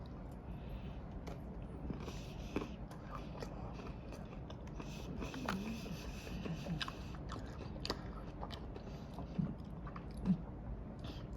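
Someone chews a crunchy Feastables chocolate bar up close, with a steady run of small crunching bites and mouth sounds and a couple of sharper cracks near the end.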